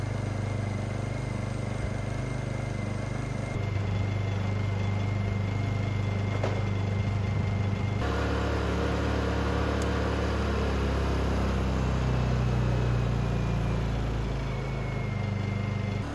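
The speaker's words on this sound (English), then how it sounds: "Drop the choke, the engine sounds good." A Honda EU2000i inverter generator engine runs steadily throughout with a continuous low hum and faint high whine, shifting tone partway through but never stopping.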